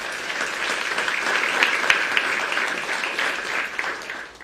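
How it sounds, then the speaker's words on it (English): An audience greets the people being introduced at a WVU men's basketball head coach announcement with a short, dense burst of applause that swells and then tapers off. "Give them a round of applause."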